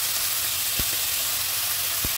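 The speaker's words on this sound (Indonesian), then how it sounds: "Terus masukkan dagingnya, kita goreng sampai berubah warna agak kecoklatan ya." Goose meat frying in a pan for soup, a steady close sizzle and hiss of hot oil with a couple of soft knocks as the pieces are moved, no speech.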